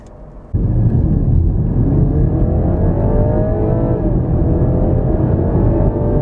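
BMW 330e plug-in hybrid in Sport mode with extra boost, its engine droning loud and steady from inside the cabin while accelerating behind a van, pitch climbing gradually after a sudden start.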